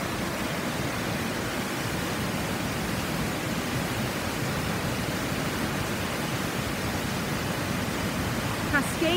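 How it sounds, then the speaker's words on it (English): A waterfall pours through a narrow slit in a slate gorge at St Nectan's Glen in North Cornwall, producing a steady, broad roar of rushing water that stays constant and loud throughout. "The power of this waterfall through a narrow slit"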